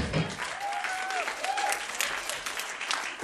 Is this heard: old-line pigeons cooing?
no